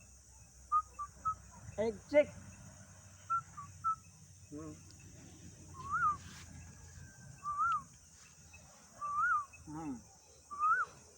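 A human voice imitates the rising, repeated call of an Asian koel, several whistled phrases spaced through the clip, with brief conversational speech near the start.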